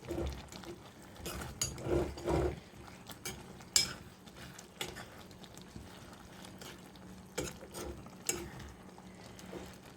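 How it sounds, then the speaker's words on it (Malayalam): Spoon stirring a lemon and date pickle mixture in a pot, soft scraping and sloshing in irregular bursts, quiet and close. "ഇനി നമുക്ക് നന്നായിട്ട് ഇതൊന്ന് കൂട്ടി യോജിപ്പിക്കണം"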